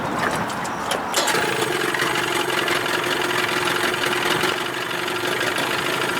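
A 1989 Evinrude 25 hp outboard motor runs steadily and loud at close range, a continuous dense drone with a faint rattle at the very start.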